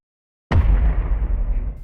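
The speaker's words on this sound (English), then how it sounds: "An explosion in the mountainside sends large boulders into a dense city" An explosion on a mountainside in a Godzilla vs. Kong movie trailer: a sudden loud blast after half a second of silence, followed by a sustained deep rumbling roar of falling rock.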